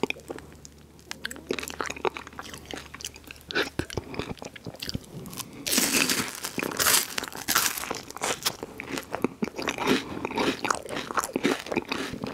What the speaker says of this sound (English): this last bottom part is very crunchy